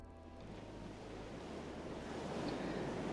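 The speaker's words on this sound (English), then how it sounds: "There are waves crashing." Ocean waves crash and roar continuously in a video game, a loud, steady surf wash that swells slightly toward the end, with wind noise mixed in and no voices.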